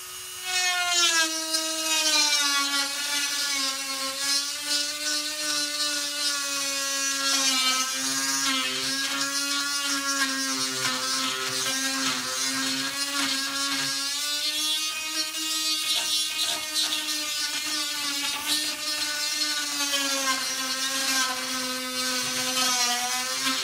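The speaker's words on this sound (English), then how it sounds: "So now we're going to get a Dremel tool and focus on shaping the inside." A Dremel rotary tool shapes the inside of a car body panel on a Lamborghini Countach replica, giving a loud, close, continuous high-pitched whine that wavers slightly in pitch as it grinds throughout.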